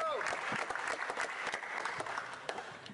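Members of a parliamentary chamber applaud a departing MP at her farewell speech, a fairly distant patter of clapping with sharp individual claps and some voices mixed in.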